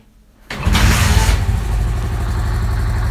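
A Honda CD 70 motorcycle starts after a brief quiet moment, revs up sharply, then settles into a steady close idle, loud and alone.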